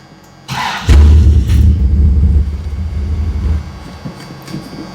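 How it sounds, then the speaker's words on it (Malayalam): A car with a steering-column gear lever starts up with a sharp crank. Its exhaust then rumbles loud and close for a few seconds before fading and dying out as the engine stalls. "എന്തായാലും ഞാൻ ഇപ്പോൾ എക്സോസ്റ്റ് നോയ്സ് കേൾപ്പിച്ചു തരാം"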